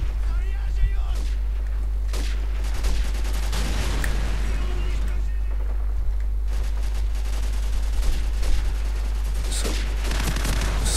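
Rapid sniper and automatic gunfire in a Call of Duty 4 online match, with dense repeated cracks and bursts throughout and a steady low rumble underneath, while someone talks over the shooting.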